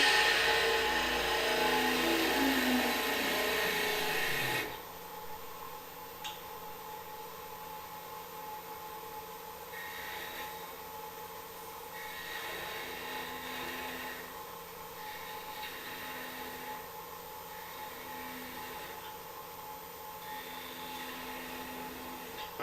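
A lathe hums steadily as a 3/8 gouge turns a small wooden spinning top, with a louder rough cutting hiss at first, then quieter continuous motor drone and light scraping.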